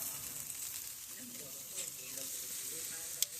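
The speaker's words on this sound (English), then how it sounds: "Grilling again. Some ribs." Pork ribs and thick tomato slices sizzle on a backyard grill, a soft, steady frying hiss with faint pops and one brief sharp crackle, while a voice murmurs quietly in the background.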